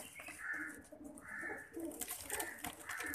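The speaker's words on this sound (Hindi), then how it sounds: "टेडी ब्रीड कबूतर लिया हमने" Low, soft coos from Teddy breed pigeons repeat several times over a faint background, with a few higher bird chirps scattered throughout.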